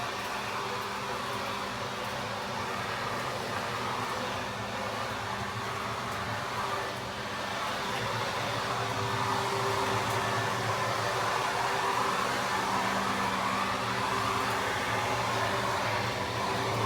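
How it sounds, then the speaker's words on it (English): A Greenworks 40V cordless 2-in-1 leaf blower vacuum sucking up leaves around a house, producing a steady, moderately loud motor and airflow whoosh with rustling debris, fairly constant from start to finish. "vacuuming some of the leaves around the house"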